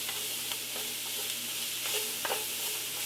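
Cajun red beans are stirred in a cooking pot over a soft steady sizzle, with a few faint scraping strokes of the spoon and no talking.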